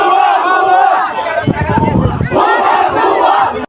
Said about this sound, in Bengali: সীমান্তে গিয়ে স্লোগান দিচ্ছে নারায়ে তাকবীর আল্লাহু আকবার